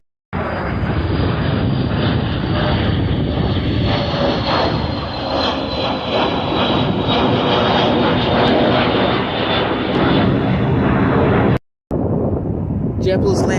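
A Spirit passenger jet lands at Fort Lauderdale Hollywood International Airport, its loud engine roar steady and close with wind buffeting the microphone, cutting off briefly near the end.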